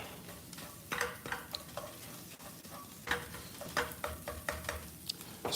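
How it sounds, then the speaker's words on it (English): Green onions sizzle and fry in a pan while being stirred, the spoon scraping in irregular bursts over a continuous crackle, close and fairly loud with no talking. "this is frying a little bit."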